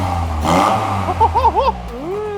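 Car engine fitted with individual throttle body trumpets, revved in a few quick blips that rise and fall over a low idle, fairly near, with some brief background noise and no clear talk.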